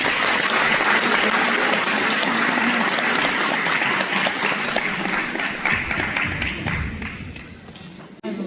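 Loud, dense applause from an audience honoring teachers at a certificate ceremony in Fier, sustained rapid clapping filling the room before tapering off at the end.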